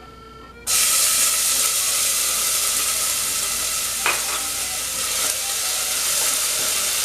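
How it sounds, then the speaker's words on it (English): Chopped onion hits hot olive oil in a pan and bursts into a loud, steady sizzle that holds for several seconds, with a brief clink of stirring partway through. "So we've got some olive oil in our pan, and we're going to add some chopped onion."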